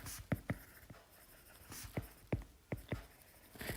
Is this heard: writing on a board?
yes